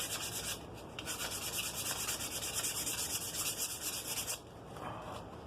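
Hand sanding of a Craftsman ball-peen hammer with fine 220 grit sandpaper, a steady close scratchy rubbing that runs continuously for several seconds, then eases to a softer stroke near the end, with no talking.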